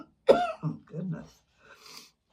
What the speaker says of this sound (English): I was trying to get that sentence out before I had to cough, and that didn't work.